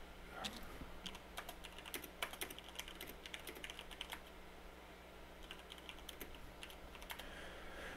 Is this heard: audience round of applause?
no